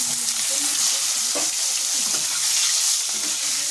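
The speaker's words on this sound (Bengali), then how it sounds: "বেগুনটা সম্পূর্ণ ভেজে তুলে নেবো।" Eggplant slices frying in oil in a pan, a steady close sizzle with faint crackles throughout, heard alone without talk.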